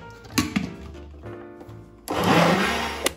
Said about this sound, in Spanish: volvemos a batir.